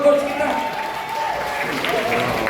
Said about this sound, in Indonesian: Tepuk tangan dong buat coach kita.